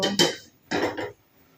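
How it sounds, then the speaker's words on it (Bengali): A blackened kadai with a broken handle is set down on the stove in a home kitchen, giving two close metallic clanks and scrapes with a short quiet gap between them. "এখন কড়াইটা বসিয়ে দেব।"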